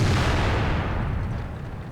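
A heavy tank gun booms in the video game World of Tanks, a single loud blast whose deep rumble fades over roughly two seconds, close up and with no voices.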